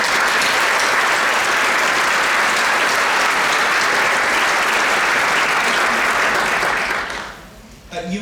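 Sustained, dense applause from a large audience at a Rockford University graduation ceremony, loud and steady for about seven seconds before tapering off.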